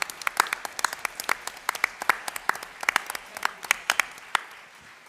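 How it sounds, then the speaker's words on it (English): Applause from an audience at a school board meeting, a moderate run of sharp, scattered claps from a smallish group that thins out toward the end. "Let's give them a huge round of applause on a job well done."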